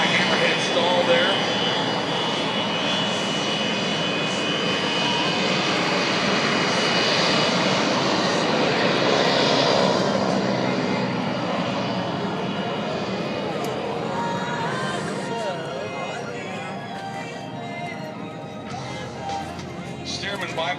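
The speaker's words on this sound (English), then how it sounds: "Stearman biplane's powered by a 450 horse Pratt & Whitney R985 single row radial engine." A Stearman biplane with a 450 horsepower Pratt & Whitney R985 single-row radial engine performs at an air show, its loud engine drone sustained throughout, rising and then gradually fading as the plane passes.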